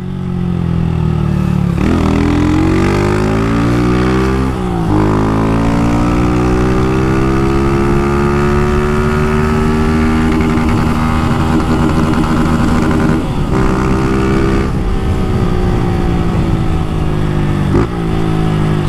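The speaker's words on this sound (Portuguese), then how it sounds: "Com esse escape aqui, você só dá vontade de acelerar mais e mais, velho." A motorcycle fitted with an aftermarket exhaust revs hard and accelerates, its loud, raspy engine note rising and falling through several throttle pulls with brief gear-change dips, close and continuous throughout.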